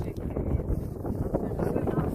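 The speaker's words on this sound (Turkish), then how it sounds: "Rüzgar dışarıdan müthiş esiyor" Steady, rough wind roar buffeting the microphone on a mountain, a dense low rumble with gusty swells throughout.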